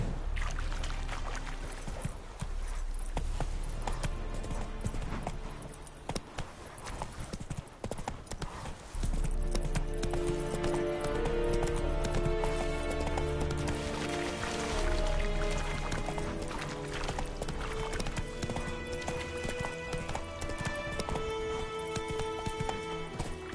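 Horse hooves clip-clop in a steady galloping rhythm in The Witcher 3, carrying on for a long stretch under a loud game soundtrack and ambient noise.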